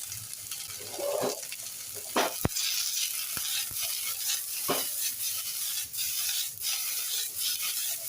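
Finely chopped capsicum, carrot and cabbage stirred and tossed in a hot pan with onion for veg Manchurian, a steady sizzle with scraping and rustling of the vegetables, close and continuous.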